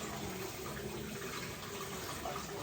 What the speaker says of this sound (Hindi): इसको अच्छे तरीके से स्ट्रॉबेरीज को धो देती हूँ